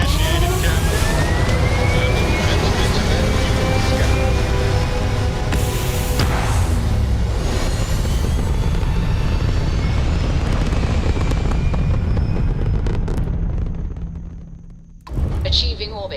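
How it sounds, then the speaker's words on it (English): Spaceship liftoff in the Starfield video game, a loud sustained roaring thrust with rumbling low end and rising whine that holds for most of the span, then drops away sharply near the end. "Liftoff initiated, Captain."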